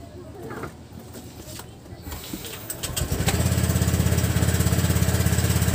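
A Honda Click motorcycle engine during a test. Muffled low noise and faint voices give way to the engine catching about halfway through, then a loud, steady, pulsing idle close by.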